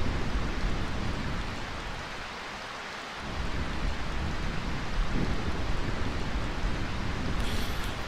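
Steady rain falling in the video game Final Fantasy IX, a continuous broadband wash that dips briefly midway before returning at an even, moderate level, with no voices.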